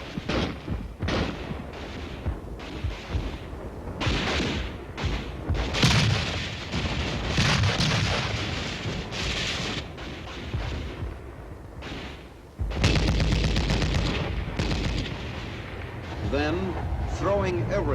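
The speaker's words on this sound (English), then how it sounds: "The enemy is now within range of small arms fire." Battle sounds from an army training film set in Hawaii: a dense, continuous mix of small arms gunfire and artillery booms, with sharp cracks and heavy blasts layered over one another, loud and close throughout.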